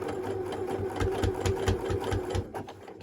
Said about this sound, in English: and then I'm going to start sewing.